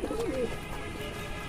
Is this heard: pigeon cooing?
yes